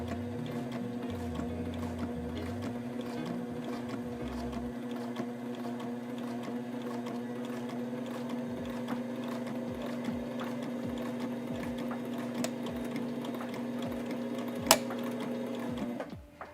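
Domestic sewing machine stitching a seam through fabric, a steady mechanical whirr with a constant motor hum running nearly unbroken for about sixteen seconds, a few faint clicks scattered throughout, then stopping at the end.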